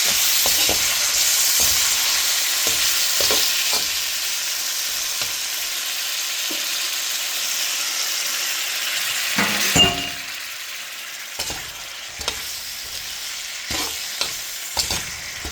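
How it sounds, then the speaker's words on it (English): Food sizzles and sautés in a deep pan with a splash of water added, a steady frying hiss throughout with occasional clinks and stirring scrapes, no talking. "I'm gonna let that sauteed a little bit more."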